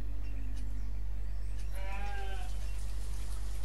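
A sheep in the village-building game Banished bleats once, clear and moderately loud, over a constant low electrical hum.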